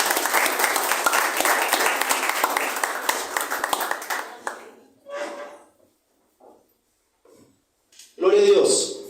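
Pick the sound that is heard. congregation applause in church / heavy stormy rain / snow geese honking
congregation applause in church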